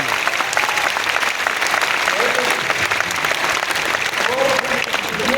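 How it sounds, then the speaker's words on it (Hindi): Audience applause at a comedy show, a dense, steady wash of clapping that fills the whole stretch without pause, with a faint voice surfacing near the end. "इसलिए तालियां बजाने में कंजूसी मत करो, यहाँ पैसा ताली की साइज के हिसाब से आता है।"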